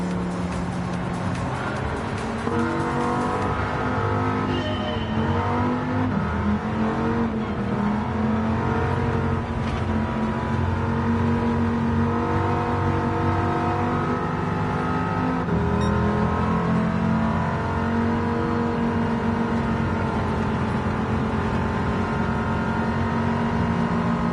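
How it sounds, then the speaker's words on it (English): Race cars in Gran Turismo 7 roar continuously with a V10 engine among them, revving up and down with squealing tires and cars passing, loud and unbroken for the whole stretch without talk. "Just having some fun doing some redneck Gran Turismo racing."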